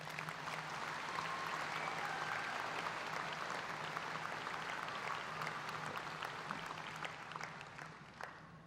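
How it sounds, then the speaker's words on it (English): A crowd claps steadily in a sustained round of applause that fills the room at a high school graduation ceremony, then starts to thin out near the end. "please give them a round of applause"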